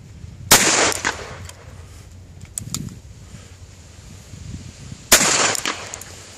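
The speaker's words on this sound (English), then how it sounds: "And that's six shots." Two sharp gunshots from a Ruger Single Six revolver chambered in .17 HMR, fired outdoors, each a loud crack with a short ringing tail, spaced about four and a half seconds apart with quieter handling noise between.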